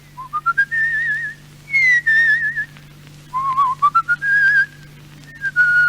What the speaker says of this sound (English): I whistle, too.